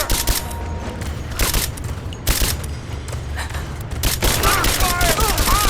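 Rapid gunfire in Rise of the Tomb Raider fires in repeated loud bursts, close and sharp, with a shouting voice breaking through near the end.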